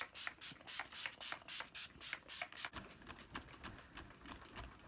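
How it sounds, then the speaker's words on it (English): Urban Decay All Nighter setting spray misted from a pump bottle in a series of short, rhythmic hissing bursts, fairly close and crisp, with no talking. "we should add a little bit of setting spray"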